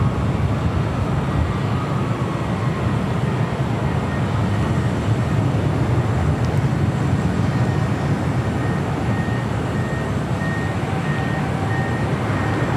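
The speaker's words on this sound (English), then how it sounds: "EVA Air Cargo heading to SFO, cleared for takeoff" An EVA Air Cargo jet takes off at LAX, a steady, loud broadband roar with a low rumble that holds evenly throughout, with faint tonal whines and intermittent beeping in the background.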